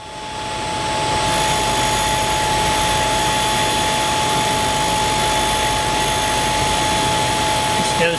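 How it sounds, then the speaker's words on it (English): A bench grinder works steadily on a small 3/8 bolt adaptor part, its motor giving a loud, continuous whine with a sustained high tone that holds evenly throughout after a brief spin-up. "I can get a much better finish, of course, on the grinder than I can on the lathe"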